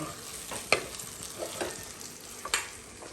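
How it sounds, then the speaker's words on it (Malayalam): Food is stirred in a cooking pot while it fries, producing a few soft scraping strokes over a low, faint sizzle; no voices. "നമ്മളിത് ഇടയ്ക്ക് ഇളക്കി കൊടുക്കാട്ടോ"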